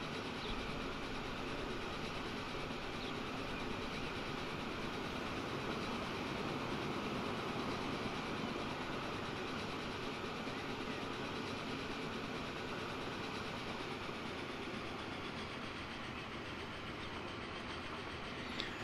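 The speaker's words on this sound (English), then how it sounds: "That's the flat car train." A flat car train in Transport Fever 2 rolls along steadily with a continuous rumble and faint clickety-clack of wheels, even and unbroken throughout.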